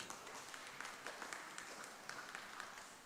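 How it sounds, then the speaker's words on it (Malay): Faint, distant applause from members at an annual general meeting, a soft wash of many hands clapping steadily at low level throughout. "Bagi tepukan kepada tuan-tuan sendiri."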